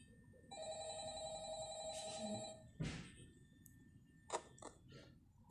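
Old-style telephone bell ringing in Five Nights at Freddy's, a steady electronic trill for a couple of seconds that then stops, followed by clicks, over low room noise.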